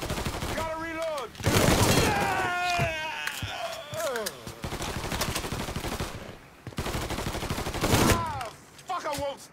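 Rapid automatic gunfire during a Mafia III mission, loud bursts of sustained shooting with short gaps, while someone shouts and yells excitedly over the firing.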